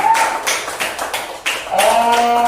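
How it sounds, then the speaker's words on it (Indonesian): A class applauds a presenting group during an academic session, a few close, uneven bursts of clapping with faint background voices and a tonal sound near the end. "Silakan tepuk tangannya dulu buat kelompok satu."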